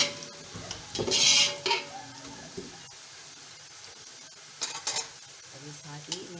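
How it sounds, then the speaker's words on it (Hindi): Cumin and garam masala frying in a pan, giving a faint, intermittent sizzle with a couple of louder bursts of stirring and scraping, no voices. "अब इसको मैं थोड़ा सा फ्राई करूँगी ताकि गरम मसाले की अच्छी से खुशबू आ जाए"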